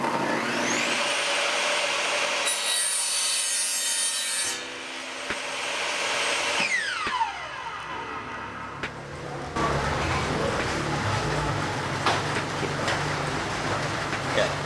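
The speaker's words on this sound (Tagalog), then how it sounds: "Napakadali lang pong mag-cut ng laminates" Circular saw with a 40-tooth blade cutting laminate: a loud, continuous high whine from the spinning blade, with the pitch shifting and dropping as it bites into the board, followed by steady, rough cutting noise.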